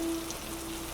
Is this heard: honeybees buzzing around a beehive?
no